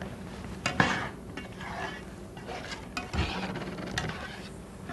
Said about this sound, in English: Well, I'm going to mix this up